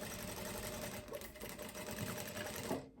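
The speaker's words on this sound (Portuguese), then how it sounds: "Vou fazer essa costurinha aqui agora, ó, em cima dessa daqui." A sewing machine stitches a tailored blazer pocket, a close, rapid, steady mechanical chatter that runs continuously and slows briefly near the end, with no talking.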